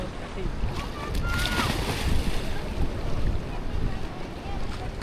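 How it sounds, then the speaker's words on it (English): Ocean surf rolling in at a Philippine beach with a constant roar, mixed with wind buffeting the microphone, loud and close throughout. "I can already see the waves rolling in"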